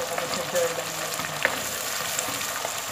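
Rice with tomato being stirred in a hot pan in a small kitchen, a continuous loud sizzle and frying hiss with faint scraping of the utensil, no talking over it.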